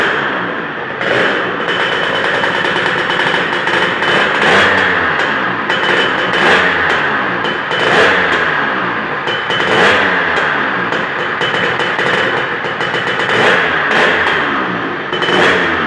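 A Lambretta scooter, running on a 19 jet with a new exhaust and plenty of compression, fires up and runs loud and close, its two-stroke engine revving and popping in rough, uneven bursts throughout.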